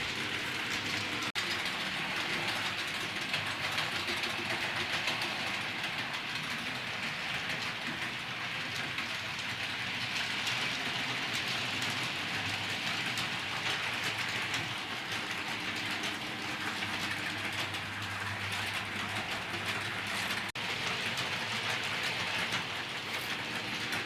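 A Hornby OO-gauge GWR Hitachi Class 800 bi-mode model train runs on track with a steady, soft whirring rumble and light clicking. The sound carries on evenly for over twenty seconds with no voices.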